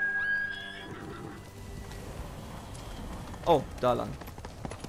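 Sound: horse neighing and hooves in Ghost of Tsushima video game

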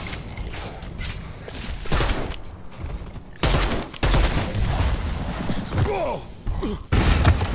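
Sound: pistol gunfire in a zombie video game

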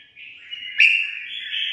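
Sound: pet songbird chirping

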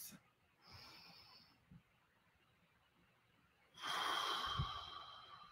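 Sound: deep breath taken by the presenter

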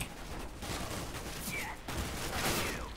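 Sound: gunfire in the video game CS:GO

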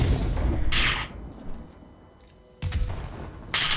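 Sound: grenade explosion in a video game

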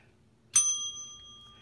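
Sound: bell ringing

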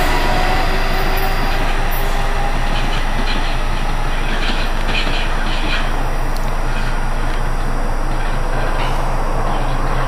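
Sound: Amtrak passenger train passing

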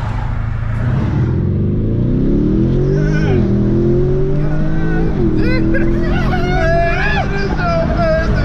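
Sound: Lamborghini Urus accelerating 0 to 60

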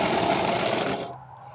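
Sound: Meccano gear cutting machine running, Dremel cutting wheel blade

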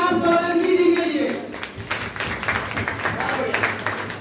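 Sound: audience clapping loudly

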